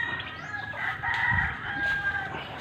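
Pet chickens clucking steadily at feeding time among turkeys and pigeons, a close chorus of overlapping calls over a dense background of farmyard noise, with no talk.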